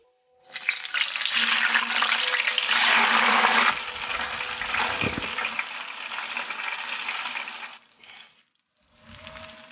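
Eggplant slices sizzle in hot oil in a home kitchen, a loud, hissing fry that swells early and holds steady for several seconds before briefly dropping away and returning more faintly.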